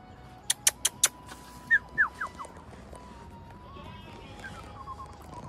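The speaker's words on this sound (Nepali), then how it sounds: "बाख्रा पनि छन्" Several goats on a farm in Nepal bleat a few times, with short, wavering calls rising over a quiet rural background. Sharp higher chirps come just before them.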